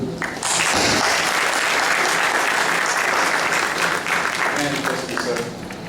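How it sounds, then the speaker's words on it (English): A large conference audience applauds warmly and continuously for a keynote speaker, a dense wash of clapping that holds steady before tapering slightly at the end. "Ladies and gentlemen, with a very warm round of applause, please welcome Mr. Guri."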